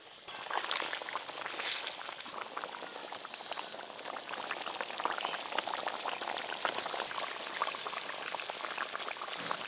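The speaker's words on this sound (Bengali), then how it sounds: "ঝোল খুব ভালো করে ফুটে গেছে" Fish curry broth bubbling at a steady boil in a pot, a dense continuous crackle and burble that stays loud and even throughout with no voices.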